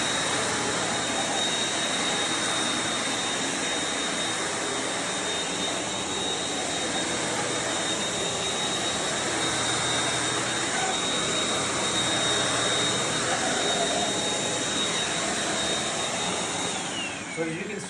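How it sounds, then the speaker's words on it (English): A vacuum cleaner roars steadily and loudly up close for the whole stretch in office common areas, its motor drone with a high whine barely changing. "So as you can see, I was doing a very thorough vacuuming."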